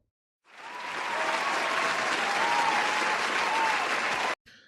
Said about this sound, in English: Give yourselves a round of applause for being here and staying up with me.